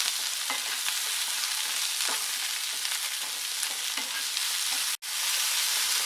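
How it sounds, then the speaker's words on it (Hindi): Onions and vegetables frying in a pan for chilli chicken, a dense continuous sizzle with occasional stirring scrapes, close and steady, briefly cutting out near the end. "अब हम इसे थोड़ी देर के लिए भून लेते हैं।"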